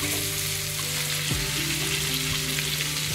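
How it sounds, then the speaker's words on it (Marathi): Stuffed bangda mackerel fry loudly and steadily in a pan, a dense, continuous sizzle close by with a low hum beneath and no voices. "फ्राय करताना पण अलगद पलटी करायची, म्हणजे वाटण आपलं बाहेर नाहीये"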